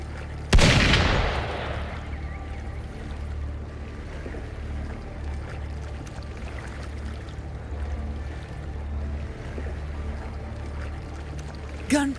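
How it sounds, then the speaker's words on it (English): A single loud gunshot cracks near the start, then a low rumbling ambience continues, with a faint second report at the very end. "Gunfire! We've got intruders."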